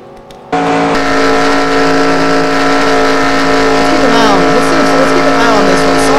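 Loud, roaring engines of race cars speeding past on a track during a grand prix race, with a sudden onset and rising, sweeping engine pitches.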